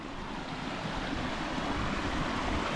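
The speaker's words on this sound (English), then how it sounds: "Nice little cascading stream before it goes in behind the rock again" A small cascading mountain stream gives a constant broadband rush of falling water, steady and fairly close, with no voices and a slight wind-like roughness.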